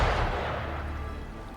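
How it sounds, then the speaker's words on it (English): Gunfire in the video game Wuthering Waves: a single loud boom with a long rumbling tail that fades out, no voices over it. "Gunfire! We've got intruders."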